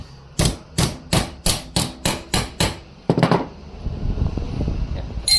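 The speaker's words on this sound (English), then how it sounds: "let's get the hammer and knock it out" Eight evenly spaced hammer blows knock a dip out of metal during an engine bay clean-up on a 4JJ1-swapped Nissan Patrol. The sharp, close strikes are followed by a louder clattering hit and some low handling noise.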